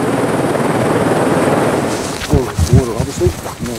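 Steady rotor and engine noise of a helicopter working at a cliff on Lord Howe Island, fairly loud, with a voice speaking over it toward the end.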